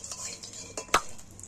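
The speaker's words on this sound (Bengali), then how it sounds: "দেখো 5 ফোড়নগুলো ভাজা হয়ে এসেছে" Panch phoron spices fry in oil in a wok, giving a soft sizzle under light clinks and one sharp metallic knock of a utensil against the pan.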